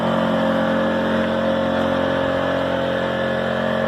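An AI Power SUA2300i generator running at full throttle with no load, a steady, loud, even engine hum with a constant droning tone and no variation.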